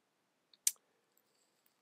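A single sharp computer mouse click while starting a nutrition course assignment online, a brief quiet tick followed by a few faint softer clicks in an otherwise silent room.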